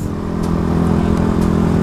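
A motorcycle on a Portuguese road, heard close and loud as a steady droning engine hum with a constant low growl through the whole short stretch.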